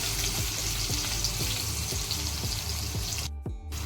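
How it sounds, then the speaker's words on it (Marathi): Garlic sizzles steadily in a hot pan as it fries until golden for a tempering, a constant close crackle with faint rhythmic stirring. "थोडासा लसूण सोनेरी होईपर्यंत फ्राय करणार आहोत."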